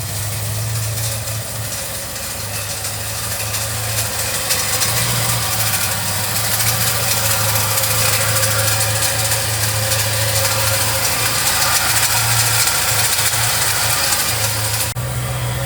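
An old barn-find car engine runs steadily and loudly with a rough, rumbling idle and a rattly, knocking texture, close up and continuous.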